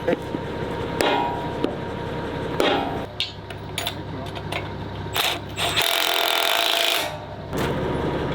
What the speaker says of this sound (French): Il va falloir que quelqu'un tienne le bout de bois. Pour vraiment pouvoir taper.